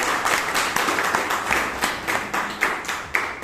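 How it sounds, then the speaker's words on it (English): Audience claps for a speaker at a Bangalore Toastmasters club meeting, a moderate round of individual hand claps with a distinct, uneven rhythm, fairly close and not overly dense. "Give a big round of applause for Toastmaster Alok."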